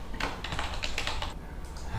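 Fingers type a name on a computer keyboard while setting up a Windows 10 virtual machine in Oracle VirtualBox, producing a short burst of quick, close key clicks with a brief pause before a last few taps.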